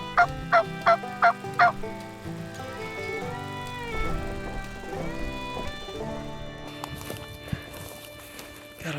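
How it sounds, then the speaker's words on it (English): A wild turkey in Montana gobbles five times in a quick, loud run, then goes on more faintly over rustling footsteps and scattered clatter. "I just struck another turkey back the other way."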